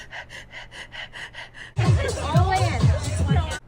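Sharp gasping and heavy, tense breathing as from someone entering a cold plunge; a quieter rhythmic breathing pattern first, then louder, close, ragged gasps and breaths.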